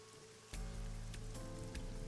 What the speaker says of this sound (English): Parasol's getting pelted by the rain.